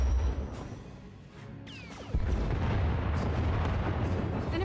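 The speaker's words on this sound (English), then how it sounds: "Enemy is firing. Turbo lasers, missiles, and what looks like transport pods." An enemy warship in a space combat video game fires turbolasers and missiles, heard as a deep booming rumble that fades, then a sharp descending zap and a sudden heavy roar that stays loud and sustained.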